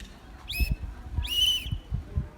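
A whistle blows Morse code, a short toot followed by a longer sustained one, then another pair of tones. The blasts are clear and fairly loud over a low background rumble.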